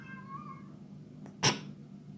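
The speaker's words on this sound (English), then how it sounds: "The cat in the background." A cat meows in the background of a room, a faint drawn-out meow early on followed by a sharper, louder meow near the end and a brief final cry, all heard from some distance.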